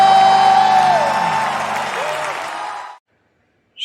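Church congregation at an online worship service cheering, whooping and clapping together in a dense, sustained wash that fades out after about three seconds, leaving silence.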